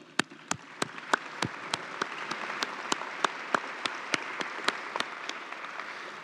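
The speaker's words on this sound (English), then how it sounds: "let's have a big round of applause." A crowd at a community college commencement ceremony applauds, a soft, wide wash of clapping from a large audience with a regular series of louder, sharp nearby claps standing out above it.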